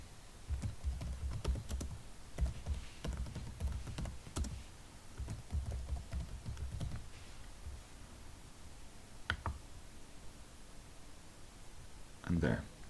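Computer keyboard typed in quick bursts with clicking keystrokes, close and clear, pausing before a few final taps; a voice talks between the bursts.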